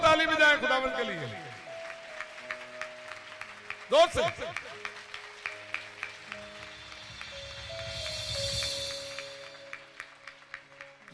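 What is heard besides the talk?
congregation clapping loudly for the Lord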